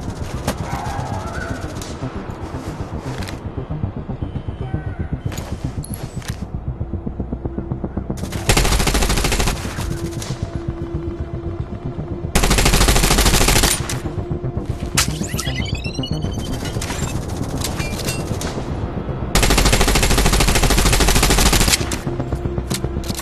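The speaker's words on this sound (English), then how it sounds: "You must learn to anticipate the time windows when the turret stops firing." Turret machine gun in The Division Resurgence, a mobile shooter game, firing in several sustained loud bursts separated by pauses, over a constant backdrop of game ambience and distant gunfire.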